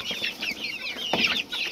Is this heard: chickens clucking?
yes